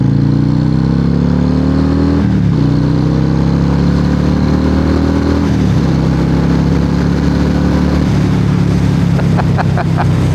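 A Harley Davidson Breakout 117 motorcycle accelerates hard through the gears, its loud, close engine rising in pitch in pulls broken by brief shift dips, with a steady heavy rumble and wind throughout.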